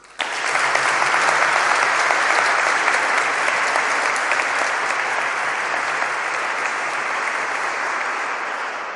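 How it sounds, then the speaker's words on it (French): A church congregation at a confirmation mass breaks into sustained applause, dense even clapping that starts abruptly and carries on at a steady level for nine seconds with no voices over it. "Je propose qu'on les applaudisse aussi."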